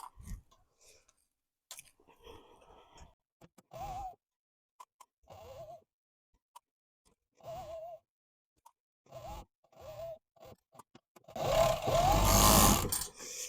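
An overlocker serges along the side edge of a lined curtain in one short, loud buzzing burst near the end, after a long stretch of quiet fabric handling and soft knocks.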